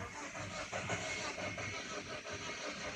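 A car engine cranks repeatedly without catching, a continuous churning, rhythmic mechanical drone with faint pulsing, fairly quiet and steady, with no voices.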